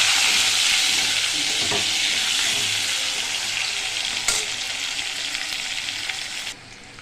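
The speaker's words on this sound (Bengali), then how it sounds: "মাছ ভাজা হয়ে গেছে, এবার আলুটা ভাজা নেব।" Potatoes frying in oil in a pan after fish, for a hilsa curry with potato and eggplant, giving a loud, steady sizzle that eases slightly before cutting off near the end.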